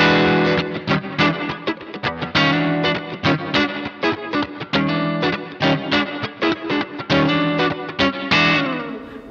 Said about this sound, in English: So you can use that for a very subtle room kind of reverb.